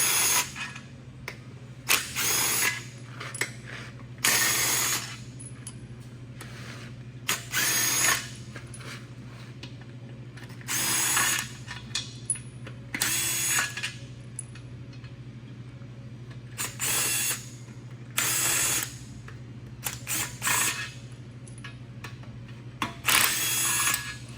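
A hand ratchet loosens tight Torx Plus bell housing bolts on an LS-swapped Chevrolet Colorado, with repeated short bursts of close, loud clicking separated by brief pauses.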